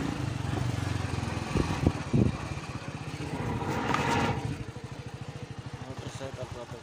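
Motorcycle engine running at a village market, a steady low rhythmic putter throughout with a brief rev swelling near the middle, close and moderately loud, with people talking over it.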